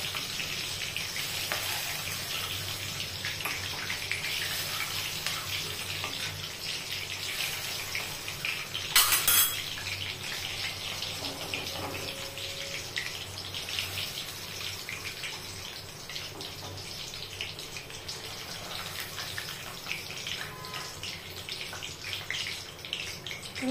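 Chivda ingredients sizzle steadily in hot oil in a kadhai, a constant dense crackle with a brief louder burst partway through, close and alone with no talk.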